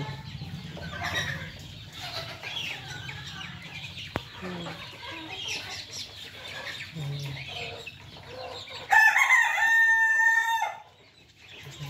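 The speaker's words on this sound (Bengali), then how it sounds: "পাশে এই পাশে বড় বড় মুরগি আর হাঁটতেছে" Village chickens cluck around a farmyard, with a rooster crowing loudly near the end; the birds are moderately close, mixed with a voice talking over parts of it.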